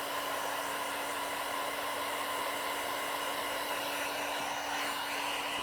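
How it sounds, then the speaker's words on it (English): Heat gun warming the rear emblem on a Tesla Model 3 Highland, a steady close whooshing blower roar with a constant motor whine and no speech. "So the main thing for this is moving your heat gun around."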